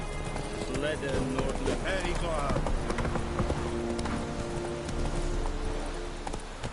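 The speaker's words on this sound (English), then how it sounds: "Run, Roach" Hooves clip-clop steadily as a horse gallops across a Witcher 3 landscape, a continuous rhythmic beat under game music and ambience, with a voice speaking over it and a brief whinny possible.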